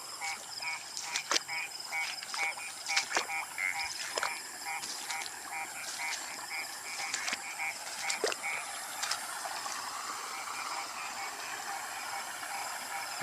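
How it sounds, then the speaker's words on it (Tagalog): Many frogs croak in a rice-paddy field being flooded for ploughing, a dense chorus of short repeated calls layered over a steady high insect-like hiss, fairly distant and continuous with no one speaking. "Ang daming nahuli mga palaka, ang ingay."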